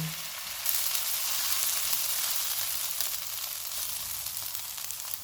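Garlic cloves, ginger and onions fry in a pan over medium heat, giving a steady, close, even sizzle throughout with faint stirring underneath.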